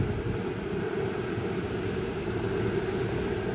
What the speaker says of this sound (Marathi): आता मी पंप सुरू करतो म्हणजे त्याच्यातनं फोम निघणार।